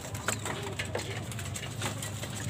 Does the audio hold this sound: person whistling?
no